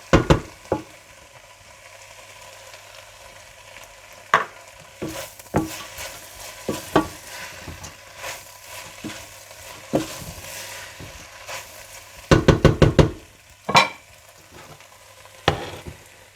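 Okra frying in a pan with chaat masala being stirred in, heard as repeated sharp spatula scrapes and knocks over a steady low sizzle, with a dense burst of clatter near the end and no talk.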